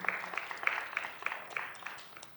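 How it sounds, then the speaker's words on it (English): A small group claps at a budget committee hearing, scattered and light, with a few sharper individual claps standing out, fading toward the end. "if y'all can give yourselves a round of applause for being here"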